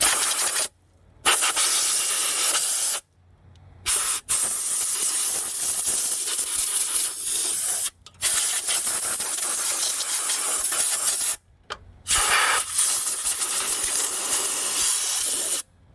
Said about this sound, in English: Take some compressed air.